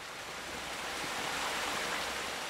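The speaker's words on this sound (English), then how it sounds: "Past the absurdly loud water." Loud, continuous rush of flowing water in the video game Len's Island, a dense, steady broadband roar that fills the short stretch with no other sounds.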